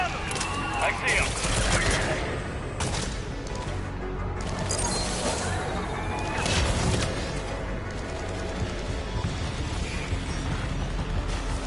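Gunfire in the Mass Effect video game on PS5, with dense bursts and sharp reports running throughout over a busy battle mix, while voices talk over the shooting.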